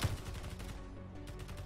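Rapid gunfire from turrets and weapons in the space-combat game Space Engineers, a burst of repeated sharp shots with a dense, rattling rhythm, fairly faint and continuous over the short stretch.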